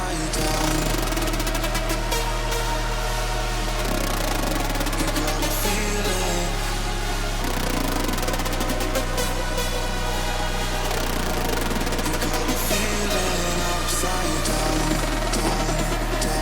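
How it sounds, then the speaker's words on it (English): A hard techno track's break with a modified synth melody, dense and loud, driven by a heavy pulsing low end whose pitch shifts every few seconds beneath busy, gritty, distorted synth layers, with no talking. "where you will hear the modification I first did for the melody,"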